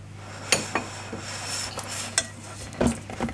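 Chocolate cookie brownie batter being mixed in a bowl, with soft scraping strokes and a few sharp utensil clicks against the bowl, close and fairly quiet, over a steady low hum, no talk.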